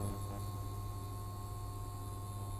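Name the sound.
induction cooktop humming quietly with flat magnetic base pan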